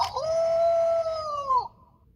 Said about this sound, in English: You'll know the engine is started up when its lights flash green and it shouts out